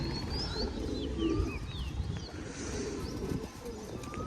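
Pigeons cooing in a rooftop loft, soft repeated coos alongside scattered chirps and high calls from other birds, steady and fairly close.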